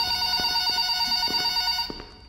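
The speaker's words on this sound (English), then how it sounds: "Does the countdown not start until we answer the phone?" A telephone rings in a Roblox Five Nights at Freddy's game with a loud, close electronic trill. It repeats in steady bursts for about two seconds and then cuts off, with no talking over it.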